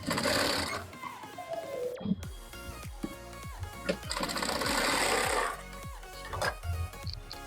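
A sewing machine runs in several bursts, stitching over a fabric strip on a lehenga made from a saree, with brief pauses and handling clicks between runs.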